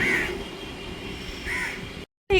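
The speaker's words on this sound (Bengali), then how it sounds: "দেখো, এই একটা কাকের বাসা, এই একটা কাকটা" A crow near its nest gives two loud, harsh caws, one at the start and another about a second and a half later, over steady outdoor background noise. A brief dropout of silence follows before the noise returns.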